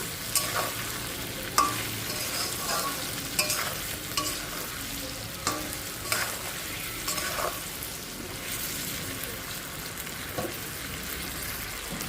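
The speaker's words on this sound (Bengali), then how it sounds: "লঙ্কার গুঁড়ো হলুদ গুঁড়ো দিয়ে একটু ভালোভাবে কষিয়ে নিচ্ছি" Chili and turmeric powder sauté in a hot pan for olive pickle, with a steady close sizzle and scattered clicks of a spoon scraping and stirring throughout.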